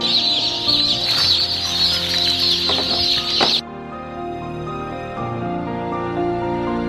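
Hens kept in closed cages cluck in a busy, overlapping chorus over a hissing background, which cuts off partway through, leaving a quieter stretch.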